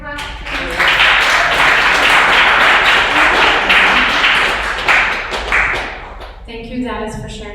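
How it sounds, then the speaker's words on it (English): Dense audience applause fills the room after a personal story at a master class, loud and sustained for several seconds before fading, with a voice starting to speak as it dies away. "Can we clap?"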